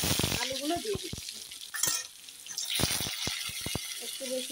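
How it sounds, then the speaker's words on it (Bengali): Potatoes frying in oil tempered with cumin seeds and three bay leaves, giving a steady close sizzle broken by sharp clacks of stirring against the pan. "আলুগুলো ভালো করে ভেজে নিচ্ছি"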